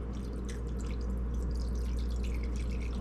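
Doctored cider pours over pork chops in a pan, a close, steady splashing trickle of liquid under a constant low hum.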